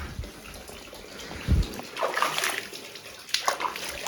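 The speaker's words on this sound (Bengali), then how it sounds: "ওটা দিয়ে জলগুলো আসছে।" Hot spring water pouring and splashing out of an outlet at a roadside stop near Lachen in North Sikkim, a steady close trickle and slosh with occasional louder splashes.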